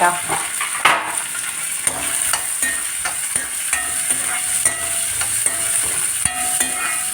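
Onion, green chilli and garlic fry together in a pan under constant stirring: a continuous close sizzle with frequent sharp spatula clicks and scrapes against the metal, no voices.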